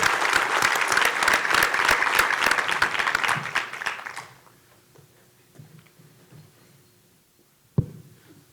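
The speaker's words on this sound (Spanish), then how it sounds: "Un aplauso, por favor" An audience at a conference panel on connectivity strategies claps loudly for about four seconds, then the applause dies away into a quiet room with a few scattered claps and a sharp bump near the end.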